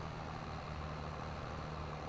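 A tractor engine in the Farming Simulator 22 video game drones steadily, a constant low mechanical hum with a faint tonal whine, heard alone with no talk.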